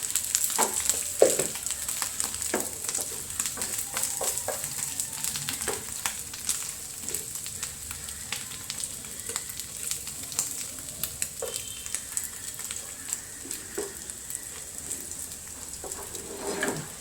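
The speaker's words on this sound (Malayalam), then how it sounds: "മീനൊന്ന് മൊരിയട്ടെ" Fish frying in a pan with dried red chillies added, a steady soft sizzle running throughout with faint crackles, moderately quiet and continuous with no talking.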